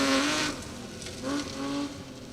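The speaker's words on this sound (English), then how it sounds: "Let's watch it power its way down the hill here." Engine note of a BMW E30 rally car powering down a hillside on a 4WD stage, fairly loud and near, rising and easing in pitch as it gathers pace, no voices.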